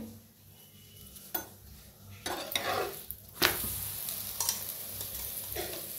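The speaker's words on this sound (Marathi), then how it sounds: "बघा मस्त चपात्या फुगायला लागल्या त्या तेल लावून घेऊया।" Chapatis roasting on a hot griddle with oil, giving a steady soft sizzle broken by several sharp scraping and pressing bursts as the flatbreads are turned and puff up, fairly close with no talk.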